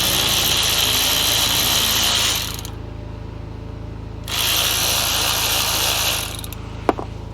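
An impact gun rattles steadily for a couple of seconds, drops to a quieter mechanical hum, then rattles again close up while bolts come out during a gearbox fluid service on a Rover Coupe with a CVT.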